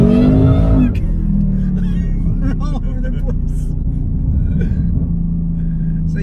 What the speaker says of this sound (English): So it is quite loud inside of the car.